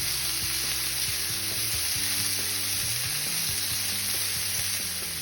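Red onions hiss loudly in leftover steak oil in a cast iron skillet, giving a dense, steady sizzle up close with repeated low scraping and stirring strokes underneath.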